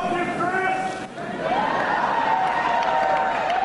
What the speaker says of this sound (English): some fans in the crowd last night shouting up to the podium, Christie in 2016